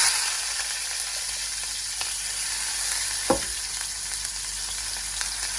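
Onion fries with mustard seeds in hot oil, producing a loud, steady, hissing sizzle throughout, with one brief scrape of the spatula midway.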